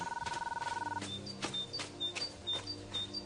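Telephone ringing: a rapid electronic warble opens, followed by a series of repeated high chirping rings in a regular pattern, fairly faint over a quiet background.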